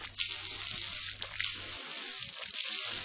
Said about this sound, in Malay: barulah sambung menyapu air ke muka sehingga genap tiga kali